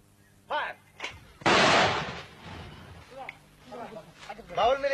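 Artillery guns fire one heavy, booming blast with a long rumbling tail, set among shouted commands and speech before and after.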